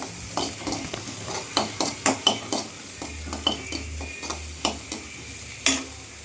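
Onions frying in a pan with a steady low sizzle, broken by repeated sharp clinks and scrapes of a utensil stirring against the pan, close and fairly loud, with no talking.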